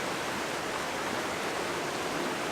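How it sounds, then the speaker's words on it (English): Steady, full-bodied rush of a mountain stream in the Smoky Mountains, continuous and close, with no pauses or voices. "the sound of rushing water"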